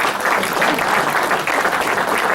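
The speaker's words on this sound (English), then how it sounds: "Let's give them a round of applause." Audience applause following a 15-minute presentation at a public meeting, a dense, steady wash of many hands clapping that fills the whole stretch at close range.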